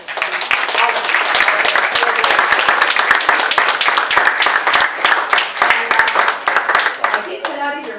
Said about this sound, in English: I want to ask an applause again for the organizers, Merari and all of them.